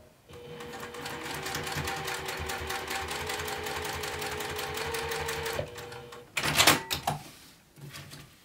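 A sewing machine bastes a bottom gusset piece onto a zipper panel, a steady close whirring stitch run for several seconds, then stops, followed by clunks and rustling as the fabric is handled.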